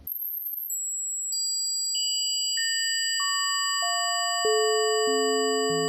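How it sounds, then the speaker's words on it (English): Pure electronic tones, billed as 432 hertz golden ratio, sound one after another, each lower in pitch than the last. Every tone keeps ringing, so they build into a steady, layered chord with no other sound. "This is 432 Hertz golden ratio."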